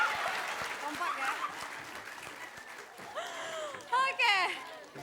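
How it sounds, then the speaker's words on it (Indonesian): Studio audience clapping in a comedy show, a dense crackle of applause that gradually fades as a voice starts talking over it. "Iya, boleh tepuk tangannya dong."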